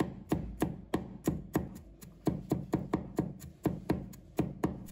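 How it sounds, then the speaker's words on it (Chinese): Rapid, evenly spaced knife chops on a cutting board as garlic is minced for a home-cooked flour dish, about twenty crisp close strikes in steady rhythm, no talking. "再改刀剁成蒜末"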